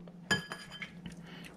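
Sweet potato pieces dropped into an air fryer basket give a sharp metallic clink, then a few softer taps and knocks as they are arranged.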